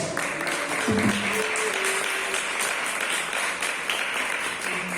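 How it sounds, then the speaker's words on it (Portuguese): Dense applause from a church congregation fills the whole clip, a steady wash of clapping with a brief tone near the start. "Você pode aplaudir Jesus pela vida delas?"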